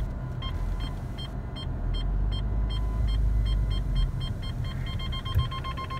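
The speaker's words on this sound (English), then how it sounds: "you can hear out the parking sensors beeping away" A Honda Civic 1.8 i-VTEC EX reverses toward a wall while its parking sensors beep in a steady series of short, clear tones. The beeps quicken toward the end, above a low engine rumble inside the cabin.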